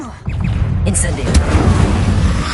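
An Incendio fire spell is cast in the Hogwarts Legacy video game, giving a loud, dense burst of roaring, crackling magical fire that holds steady for a couple of seconds.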